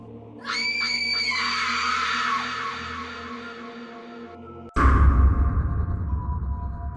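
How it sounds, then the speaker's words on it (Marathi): A long, loud, piercing scream used as a dramatic sound effect in a Marathi horror audio story, holding for about four seconds before cutting abruptly to a dense burst of noise. "मागोमाग कुणीतरी जोरदार किंचाळलं"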